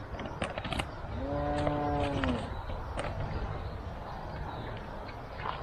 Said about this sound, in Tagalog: Nasa tabi pala ng kalabaw.